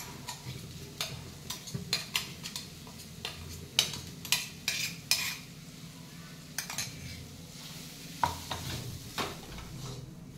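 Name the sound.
green peas and green chilies frying in oil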